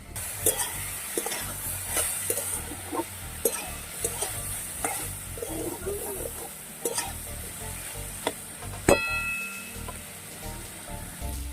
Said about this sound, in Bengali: সবজিটা তিন থেকে চার মিনিট আমি ভেজে নিয়েছি